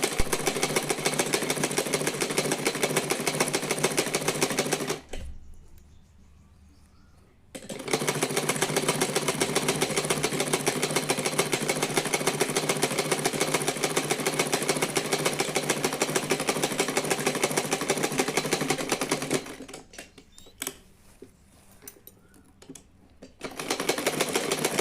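Sewing machine stitching a floor-length gown made from a saree, running in long steady bursts with a dense mechanical whir, pausing briefly twice before starting up again, close and loud with no talk.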